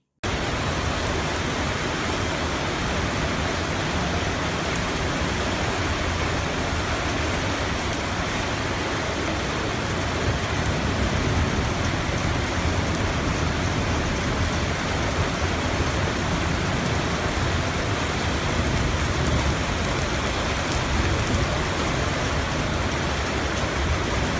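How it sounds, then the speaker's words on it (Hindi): Heavy rain and floodwater pouring down from the Margalla hills into Islamabad's E-11 sector, a dense, steady roar of rushing water that stays loud and unbroken throughout. "ये पानी का बहाव, ये मरगला से बारिशों का पानी उतरता है"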